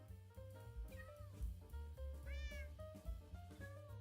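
Cats meow in the video game Minecraft, a couple of short rising mews over loud, steady background music and game sounds.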